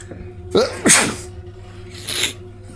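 Sneezes burst out close by, a sharp double sneeze followed by another one a moment later, loud against a quiet room with a low hum.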